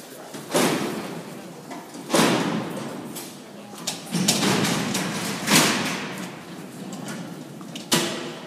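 Heavy Alcatraz prison cell gates slide and slam shut in a series of about five loud metallic clanks and rumbles, each separated by a few seconds of quieter rolling motion.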